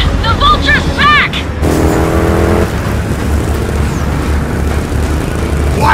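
Antique motorbike engine in Gears of War 4, a loud continuous roar with revving surges under shouted dialogue and other game noise.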